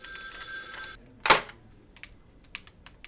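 In a comedy skit, a telephone rings with a bright, trilling electronic tone for about a second. Then comes a sharp clack, followed by faint scattered taps and clicks in an otherwise quiet room.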